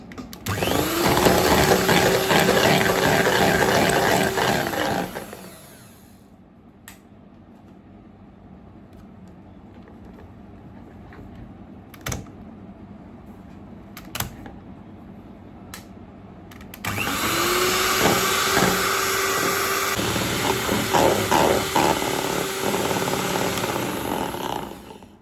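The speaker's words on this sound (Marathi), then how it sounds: "आता ही व्हिप क्रीम आहे आणि ह्याला मी व्हिप करणार आहे. हे माझं हँड मिक्सिंग हे मिक्सर आहे." Electric hand mixer whipping cream, a steady loud whirring motor tone with a fixed pitch, running for about five seconds, pausing through quieter clatter and taps, then starting again for the last eight seconds.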